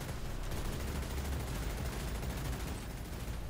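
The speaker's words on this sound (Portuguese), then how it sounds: "E vamos usar a light machine." Rapid, continuous light machine gun fire in the mobile open-world shooter Free City, a dense steady stream of shots with heavy low-end booms running throughout without pause.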